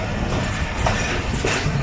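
Ravi Express passenger train pulling away from Nankana Sahib railway station after a short stop, a steady rumbling roll with faint clattering wheels, close and continuous throughout.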